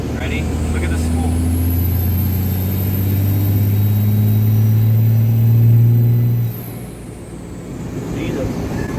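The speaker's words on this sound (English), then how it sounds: "so watch how fast this turbo spools" A little red Cummins diesel dually hotshot truck accelerates hard, and a piercing turbo whistle climbs quickly and holds over a deep, loud engine drone. The sound then drops off sharply as the throttle is released.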